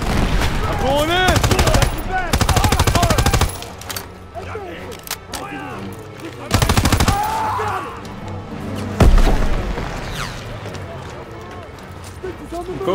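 Call of Duty: WWII campaign combat with loud bursts of machine-gun fire coming in rapid rattling volleys, separated by shorter shots and impacts, while voices talk throughout.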